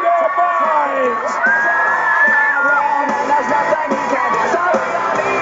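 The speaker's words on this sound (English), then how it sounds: "can you start screaming for me right now?" A large crowd at a back flip Easter show in Sydney screams, cheers and whoops continuously, loud and dense, with children's shrieks rising above the roar.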